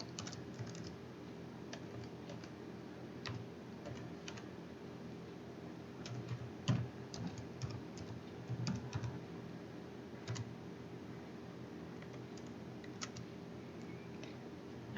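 Keys clatter softly on a computer keyboard as a full website address is typed into HTML code, a run of irregular quiet taps over a low steady hum.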